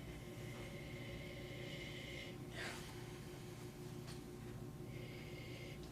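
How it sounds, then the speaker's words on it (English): Someone gives a glass of Chardonnay a few short nasal sniffs, quick close breaths against a low background hum, with no talk. "Let's give this a little bit of sniffy sniff"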